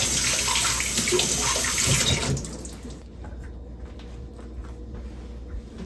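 Running tap water splashes as food is rinsed in a kitchen sink, a steady close rush for about two seconds before the flow eases to a quieter trickle with light clinks.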